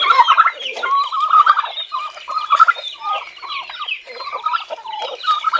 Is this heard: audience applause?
no